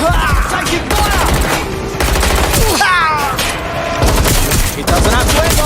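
Dense gunfire in the video game Watch Dogs Legion: rapid, loud bursts of automatic fire and shots with sweeping tonal game effects, under brief shouted voices.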